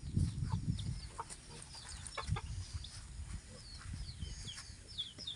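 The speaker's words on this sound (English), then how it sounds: "There's a chicken." Chickens cluck in short, scattered calls at close range on a rural farm, with chicks nearby and outdoor ambience throughout.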